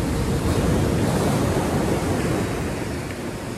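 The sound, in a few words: ocean surf with breaking waves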